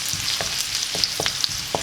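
Sliced garlic and ginger fry in hot oil for a soya dish, a steady close sizzle broken by several sharp spoon scrapes and clinks as the pan is stirred.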